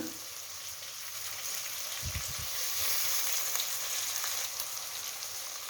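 Mint, curry leaves and coriander sizzle steadily in hot oil in a pressure cooker while chicken pulao is being prepared. The frying is loud, close and continuous, with a brief louder crackle near the middle.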